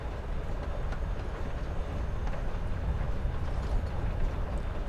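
Train ride ambience from the video game Life is Strange: a steady, low rumbling rattle of rolling railcars, continuous and moderately faint, with no voices.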